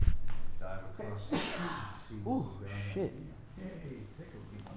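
A sneeze bursts out once amid casual talk between people, a sharp single blast standing above their voices, followed by exclamations.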